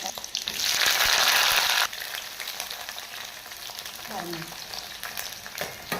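Eggs and onions sautéing in a hot pan for Tamil-style egg curry, a loud broadband sizzle for the first two seconds that then settles into a softer, steady frying hiss with light stirring, a brief voice near the end.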